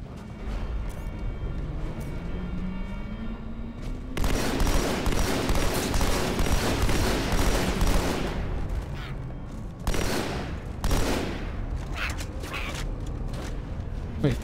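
Battle rifle gunfire in Halo 2 rings out amid a loud, busy firefight, with bursts of shots, explosions and clanking mechanisms layered over a steady background roar.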